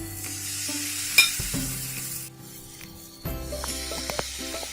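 Butter melting and sizzling softly in an oil-brushed frying pan, a quiet steady hiss with a low hum underneath and a brief clatter near the start.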